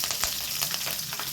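Green chillies dropped into sesame oil already tempered with fennel seeds and curry leaves for a Chettinad chicken soup: a close, steady crackling sizzle with small spitting pops and faint stirring taps.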